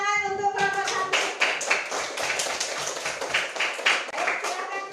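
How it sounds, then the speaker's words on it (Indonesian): Classroom clapping breaks out for a student group in an Indonesian religious studies lesson, many hands patting in a dense, fairly close burst that runs about four seconds after a brief spoken moment. "tepuk tangan untuk kelompok 1."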